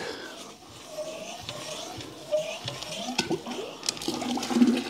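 A test pump pushes water into a bucket in a workshop, giving a continuous splashing, gurgling pour that swells toward the end, with faint voices in the background.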